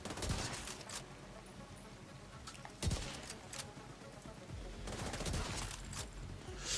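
Rapid automatic gunfire from a shooter in The Division 2, bursts of fast shots with sharp louder cracks around midway, fairly distant and steady throughout without talk.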